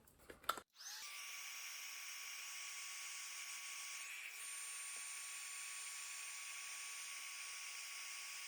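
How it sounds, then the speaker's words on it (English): A few clicks start a heat tool, which then blows a steady, loud hiss with a faint whine as it melts embossing powder for card making, continuing unchanged to the end. "a little bit of noise, and we're going to melt the embossing powder"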